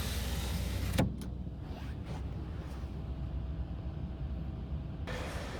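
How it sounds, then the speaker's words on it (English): The power sliding rear window of a 2019 Nissan Titan SV pickup runs for about four seconds with a steady electric motor whir inside the cab, starting after a soft click and stopping abruptly. "we have control for your power sliding rear window"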